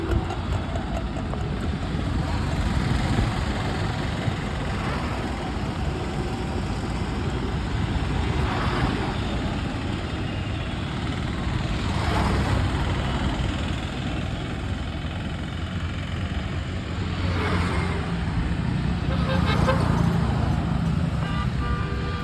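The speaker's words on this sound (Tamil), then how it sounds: "பாலத்துக்கு கீழே பாலத்துக்கு சைடில் பாருங்கள் வண்டிகள் போயிட்டுருக்கு" Road traffic flows under and beside the new Netaji Subash Chandra Bose flyover bridge in Madurai, a steady loud wash of engines with vehicles swelling past now and then.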